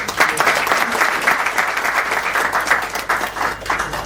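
An audience at an electrical and fan dealers' association diary launch event in Kolkata applauds with dense, sustained clapping that holds steady and close throughout, with no pauses.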